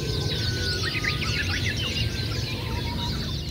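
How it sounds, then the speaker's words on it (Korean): Many birds sing together at dawn on an oreum in Jeju, a dense, continuous chorus of overlapping chirps and trills over a steady low outdoor rumble, with no voices. "보통 새들은 새벽에 동이 트기 전에 다 같이 우는 시간대가 있거든요"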